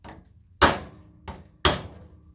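Two sharp metallic hammer strikes on a bending drift punch during a welder repair, each followed by a brief ring, with a softer tap between them; close and loud.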